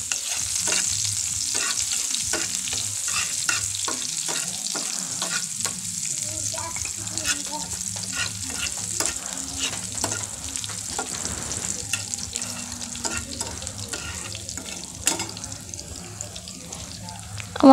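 Two crushed garlic cloves frying in oil in a pan, a close continuous sizzle with frequent stirring taps and scrapes, faint voice murmuring underneath at times.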